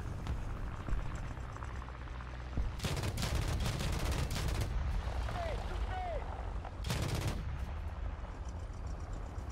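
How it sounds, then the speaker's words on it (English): Twin 20mm cannons of a French TPK 6.41 anti-aircraft vehicle firing in War Thunder, rapid bursts cutting in over a constant engine rumble, two loud volleys separated by steady running noise. "The TPK is armed with twin 20mm cannons, which have a high rate of fire with 996 rounds per minute."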